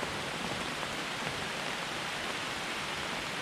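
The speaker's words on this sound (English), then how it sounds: "it is bucketing down rain" Heavy tropical rain pours down steadily on a remote island in Vanuatu, a dense, unbroken hiss of water on surfaces that stays at a constant, even level throughout with no voices.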